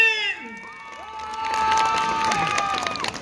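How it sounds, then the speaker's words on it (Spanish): At a clown show during a jaripeo in Zacapalco, Guerrero, a lively crowd bursts into cheering, whoops and children's shouts, mixed with some clapping, rising to a loud peak before easing off. "¡Aplausos para Axel!"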